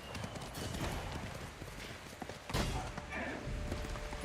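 Horse hooves clip-clop steadily in the video game Ghost of Tsushima, a close, continuous run of rhythmic hoofbeats over busy outdoor ambience, with a heavier thump partway through.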